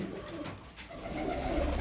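Pigeons coo softly in a loft of fancy pigeons, a low, muffled cooing under steady background noise, faint and close, with no talking.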